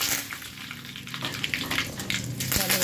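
Curry leaves spitting and crackling in hot oil with cumin and mustard seeds, a tempering for moong dal dhokla; steady close sizzle with scattered pops and a sharp burst near the end.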